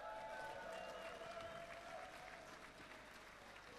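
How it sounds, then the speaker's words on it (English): An audience at an ECL2 Halo Reach grand final event gives a round of applause. The clapping is fairly quiet and dense, and it tapers off slightly toward the end. "round of applause"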